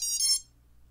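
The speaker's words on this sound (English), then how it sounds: "You're gonna hear the beeps." The ESC on an Armattan Marmotte drone with a CLRacing 4-in-1 board beeps as the battery is plugged in: a brief run of high, thin electronic tones that cuts off into near silence.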